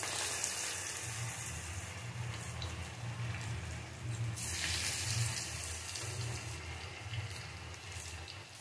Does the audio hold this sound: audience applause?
no